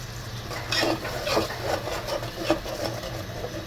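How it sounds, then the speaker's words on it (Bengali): Spices for chicken pulao being stirred and mixed in a pan, with soft repeated scraping strokes and light knocks over a constant low background hum. "আমি মশলাগুলো ভালো করে মিক্স করে নিচ্ছি।"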